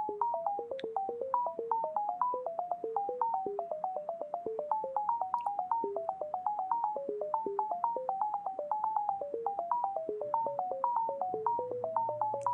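A Python-generated metronome with random triggers plays a fast, steady stream of short electronic beeps hopping between a few pitches, like a plinking melody, clean and alone.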